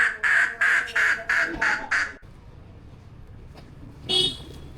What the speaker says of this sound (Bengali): হাঁস চলে আসছে।